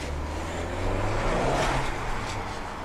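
A tuned car with a turbo accelerates hard and builds boost, its tires breaking loose. A loud, continuous engine roar rises under a broad rushing noise.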